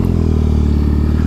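Custom Triumph T100 cafe racer motorcycle riding, its engine loud and close with a steady throbbing rumble throughout the short stretch, no talk.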